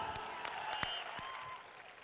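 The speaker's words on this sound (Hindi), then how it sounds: "ओए ताली बजाओ यार" Scattered audience clapping at a college event, a loose patter of claps with tonal background noise and no speech.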